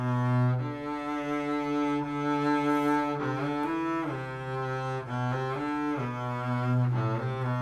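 A double bass plays a lyrical, sustained melody from Dvorak's Symphony No. 8, bowed notes gliding smoothly from one pitch to the next, close and steady with no talk.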